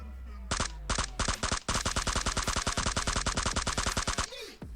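Rapid automatic gunfire from the battle royale game PUBG in a solo versus squad match, a long dense burst of loud evenly spaced shots after a few opening single shots, with no talk over it.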